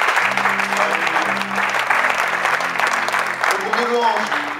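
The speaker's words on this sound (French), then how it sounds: "Est-ce qu'on peut applaudir encore?" A church congregation claps steadily at the close of a worship service, dense applause filling the room throughout while voices and a low sung or spoken tone carry underneath.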